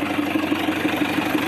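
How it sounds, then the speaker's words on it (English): A Land Rover 109 fitted with an Isuzu 4BD1T turbo diesel engine and five-speed transmission idles steadily, with a close, loud, even low throb and a regular pulsing knock throughout. "4BD1T turbo diesel engine, 5-speed transmission."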